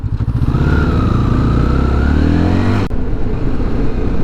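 A motorcycle rides through fog and rain, its engine loud and close, revving and rising in pitch through the gears before cutting sharply to a lower, rougher rumble as it shifts.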